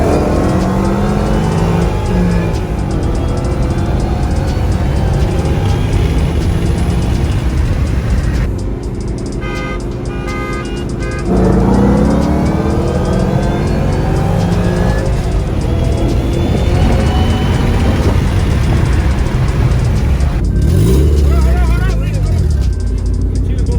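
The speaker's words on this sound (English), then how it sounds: "That's a burnout." Turbocharged car doing a burnout, with loud, sustained engine roar and screeching tire spin close by, rising and falling with revs and a brief lull midway, while people talk over it.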